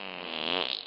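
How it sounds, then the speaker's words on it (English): A short, buzzy cartoon fart rasps for under a second, loud and close, with a fluttering, wavering texture that tails off at the end. "I'm gonna leave a fart trapped in here."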